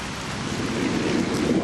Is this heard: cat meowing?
no